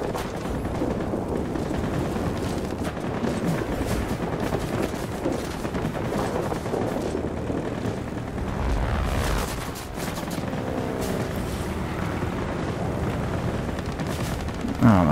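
Continuous machine gun fire and roaring aircraft engines during a World of Warplanes dogfight with FW-159 and BF-109E planes, dense rattling bursts over a constant drone, with sweeping engine passes and no clear speech.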